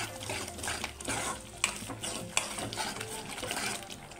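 Chicken pieces coated in Kashmiri chilli powder stirred in a pan for a dry chicken dish, a continuous rough scraping and shuffling with a couple of sharper knocks, close and moderately loud, with no voices.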